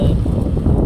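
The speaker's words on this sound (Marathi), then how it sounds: "नको इथे वारा भरपूर आहे." Loud, steady wind buffets the microphone with a deep continuous rumble and roar beside the Mumbai–Goa highway near Parshuram Ghat.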